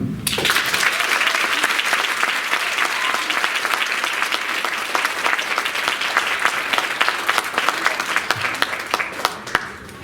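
A large crowd applauds steadily for about ten seconds, dense and sustained clapping that thins slightly toward the end.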